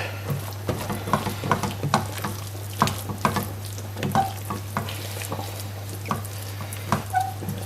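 Peas being stirred into a cottage pie filling of grated onion and carrot in a pan, with a gentle sizzle under irregular scraping and tapping strokes of a spoon, fairly close and moderate in level.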